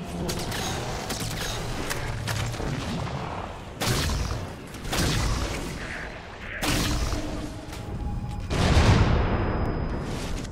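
Loud bursts of gunfire and booming blasts from the game Halo 4, with a big explosion-like surge near the end over continuous rumbling action.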